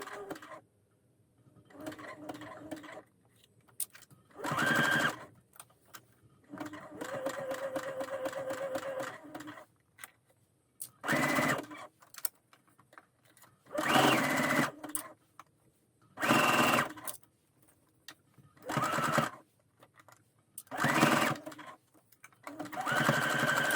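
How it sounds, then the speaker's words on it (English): Sewing machine stitching a sweatshirt cuff onto the inside of the sleeve ring, running in repeated short bursts of rapid stitching separated by quiet pauses, with occasional talk between runs. "So I shall be sewing inside the ring of the sleeve."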